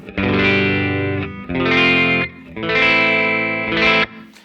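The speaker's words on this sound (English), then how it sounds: "This is the amp and the guitar on its own." Electric guitar playing sustained chords through an amp with no effect, three long strummed phrases with short pauses, clean and fairly loud with no talking.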